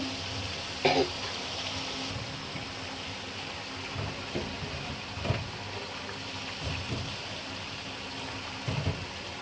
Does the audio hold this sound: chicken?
yes